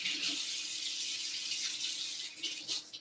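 Fruit being washed under a running tap, a steady close hiss of flowing water with brief splashing changes near the end as the fruit is moved.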